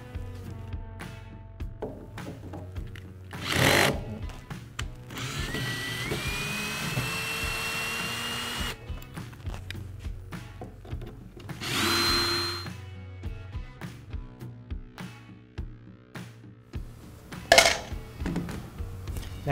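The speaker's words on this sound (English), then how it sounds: "So we're going to use a screwdriver." Screws are being removed from the base of a Mantus scuba compressor, with brief whining bursts of a powered driver separated by clicks, taps and handling noises close by.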